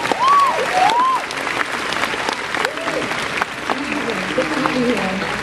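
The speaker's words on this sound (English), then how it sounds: "Give a round of applause." Audience applause at a comic con panel: a crowd claps steadily and continuously, with scattered cheers and a voice talking over the clapping.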